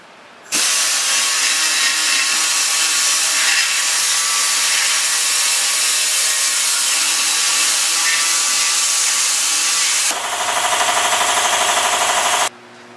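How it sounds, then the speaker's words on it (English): A carbide cutter in a high-speed die grinder whines loud and steady for about twelve seconds, enlarging a hole in a broken LS exhaust manifold bolt, and its pitch shifts near the end before it stops. "I take a carbide cutter and I just lightly enlarge that hole right there"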